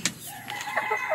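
Backyard hens clucking and calling close by, a short run of bright overlapping fowl sounds with a rooster-like note, fairly clear over light background noise.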